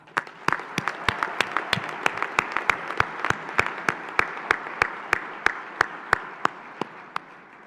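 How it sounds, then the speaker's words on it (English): Applause from a large audience at a Life University commencement ceremony, with dense steady clapping over a crowd wash and sharp regular claps cutting through throughout. "I ask that you join me once again in giving them another round of applause"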